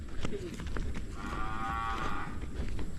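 A cow gives one drawn-out moo, moderately distant and steady, rising out of a noisy, constant background rumble with scattered knocks; no one talks over it.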